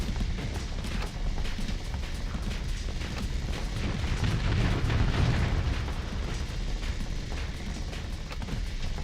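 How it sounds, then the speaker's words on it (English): Finisher missiles exploding in the space combat game Starsector, a dense, continuous barrage of booming blasts and rumbling bursts with a swelling peak midway, loud and sustained with no talk. "Those finisher missiles are rough."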